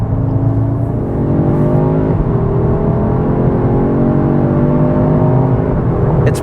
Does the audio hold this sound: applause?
no